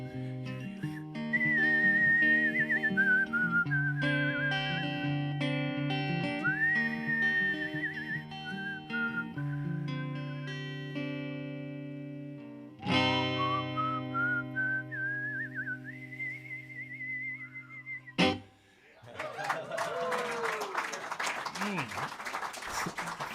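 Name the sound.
person whistling a melody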